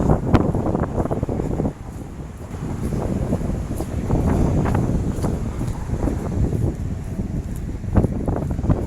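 Strong outdoor wind buffets an unshielded microphone on a city walk, a loud continuous low rumble with gusty bursts and brief lulls throughout.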